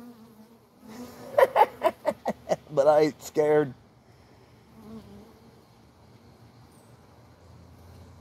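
Honey bees buzz steadily around a beekeeper working an open hive, with a faint drone running beneath a man's short burst of speech.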